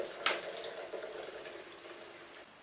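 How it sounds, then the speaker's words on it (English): Chilled pink Valentine's cocktail poured into a glass, a soft, short liquid trickle with a small splash at the start, faint and without speech. "The cocktail is so nice and chilled as well. Now we just pour it in."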